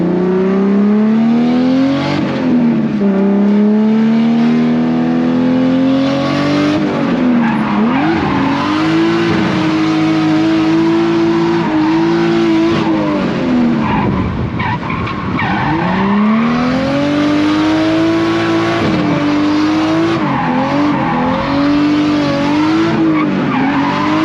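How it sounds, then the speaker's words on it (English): A drift car slides around the FD Utah track, its engine loud and close as it revs and falls in long wavering sweeps, tires screeching nearly nonstop through the slides, with no voices. "I'm just cruising around the track, getting back to where I'm trying to drift."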